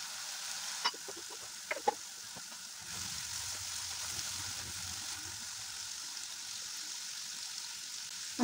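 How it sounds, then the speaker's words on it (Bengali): Spice paste for a green pabda fish curry frying in a pan, a soft, steady sizzle with a few scraping stirs early on, faint and close throughout. "মশলাটা একটু কষানো হোক"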